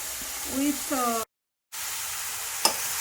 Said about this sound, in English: So I am now mixing it well.